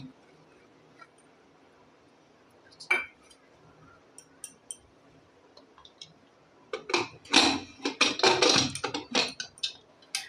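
Chopped ginger, garlic and green chilli tipped into a pressure cooker of mustard greens: a quiet opening with one sharp clink, then a dense run of clattering, scraping bursts of spoon on metal near the end.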